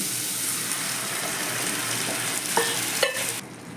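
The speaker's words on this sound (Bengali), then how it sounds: "এবার আমি ডাল সেদ্ধ ডালটাকে ঢেলে দিচ্ছি" Boiled mung dal being poured into a hot pan for a vegetarian dal with bottle gourd, giving a continuous loud sizzle and hiss with a brief splashing, bubbling swell near the end.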